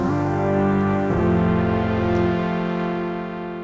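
Motor Synth MkII synthesizer on its film pad preset, a sustained harmonic chord that shifts to a new chord about a second in, held steadily and then slowly fading, played alone with no talk.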